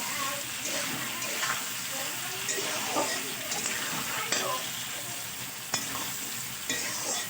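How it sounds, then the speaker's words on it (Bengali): Bitter gourd and potato being stirred in hot oil with salt, a continuous sizzle broken by scraping spoon strokes and occasional sharp clinks against the pan. "লবণটা দিয়ে আরও একটু ভালো করে আমি তেলের সঙ্গে নাড়াচাড়া করে নেব"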